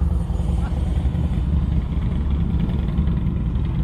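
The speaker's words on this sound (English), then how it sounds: "That's a motorcycle. Two motorcycles." Two motorcycles pass along a cold December Christmas parade route in Cleburne, Texas, their engines making a steady, loud, low rumble that fills the whole stretch without a break.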